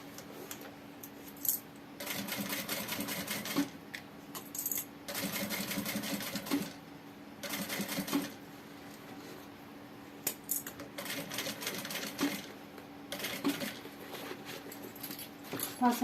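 Sewing machine stitching a zipper onto a backpack, with several bursts of steady mechanical running separated by short pauses and small clicks, close and fairly loud.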